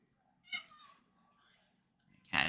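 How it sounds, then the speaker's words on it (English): A house cat lets out a loud, drawn-out meow nearby, followed a moment later by a sharp burst of noise, with no talking over it. "The cat is very loud."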